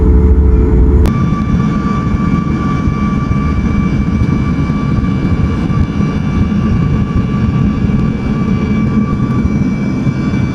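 Steady, loud airplane engine drone inside the cabin during flight over Tanzania, a continuous low roar with a faint high whine and no talking.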